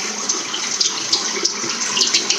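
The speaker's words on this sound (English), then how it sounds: "Let me just rinse this off quickly." Water runs steadily from a tap as something is rinsed off, a loud, close, continuous splashing hiss with no talking.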